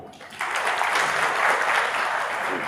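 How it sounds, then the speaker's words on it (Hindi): Applause breaks out abruptly among a gathered audience at a meeting in Yamuna Nagar, a loud, dense burst of clapping that holds steady to the end. "भी साथियों तालियां बजाओ।"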